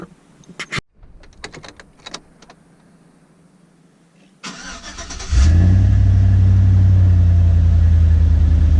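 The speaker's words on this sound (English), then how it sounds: "Go ahead and start your truck." A 2003–2007 Chevrolet Silverado pickup with a newly replaced throttle position sensor: a few faint clicks, then a loud crank that catches and settles into a steady, close, rumbling idle.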